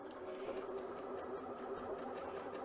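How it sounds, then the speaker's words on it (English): A Janome C30 sewing machine runs a satin stitch, its steady, fast mechanical whir continuous and close for the whole stretch, with no voices over it. "so now I will hold my tails and I will begin stitching"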